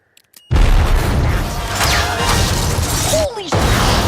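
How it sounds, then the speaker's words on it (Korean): An exploding arrow from a Hawkeye trailer erupts in a sudden loud blast with shattering debris, the roar sustained for about three seconds before a brief cut and a renewed rumble. "호크아이의 화살은 여러 기능이 담겨있기 때문이고 그중 하나는 폭발하는 것"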